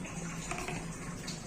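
About half a litre of water is poured over crushed nannari root in a vessel for homemade sherbet, making a continuous, close splashing gush.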